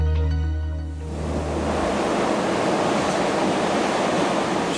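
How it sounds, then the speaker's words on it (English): Storm surge waves crash onto the coast as a loud, dense roar of surf that swells in after a tonal opening and keeps rushing steadily, close and unbroken. "Waves and currents working with the storm surge deliver a high-energy assault on the coast"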